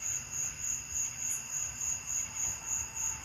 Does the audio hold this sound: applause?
no